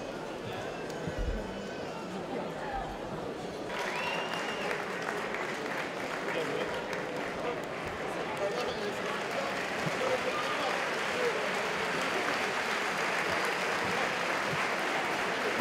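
An arena audience at a French professional kickboxing championship night (-75 kg) applauds the fighters with sustained, steady clapping and crowd noise, while an announcer's amplified voice talks over it.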